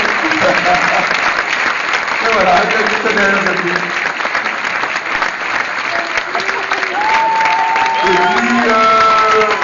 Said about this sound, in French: applaudissez bien évidemment